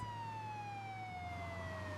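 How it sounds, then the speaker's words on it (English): A fire engine's wailing siren sweeps slowly downward in pitch, loud and steady, with a low engine rumble beneath it and no voices. "Listen, I can hear a siren. It's a fire engine."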